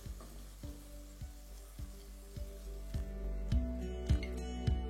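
Vegetables for navratan korma fry in hot oil in a pan with a steady, close sizzle, broken by regular clinks and scrapes of a utensil stirring against the metal.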